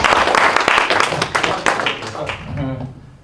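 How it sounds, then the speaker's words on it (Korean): Audience applause for a professor at a lecture, a dense, busy clapping wash from the start that thins and fades toward the end, with some voices mixed in. "이럴 때 교수님한테 박수 주세요"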